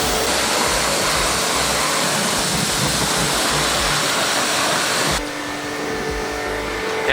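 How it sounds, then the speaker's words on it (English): A pressure washer rinses iron remover off a 2020 Toyota GR Yaris. It makes a loud, steady, broadband hissing roar of high-pressure spray, with the tone shifting abruptly near the end. "can now high pressure rinse it all off"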